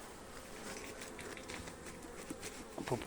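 Bees flying around a beehive on a shaded platform among trees in an apiary, a dense steady buzzing drone heard close by, with a few brief louder passes near the end.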